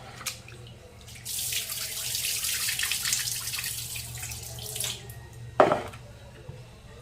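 Soaked lentils (dal) being washed and squeezed by hand in water under a running tap, a steady close splashing flow with a sharp clatter near the end.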